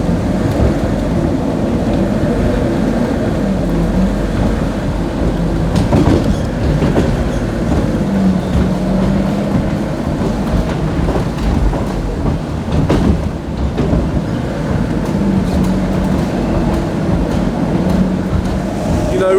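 Steady rumble of a train carriage rolling along rails, with continuous low-frequency wheel and track noise and occasional clatter, loud and close throughout with no talk.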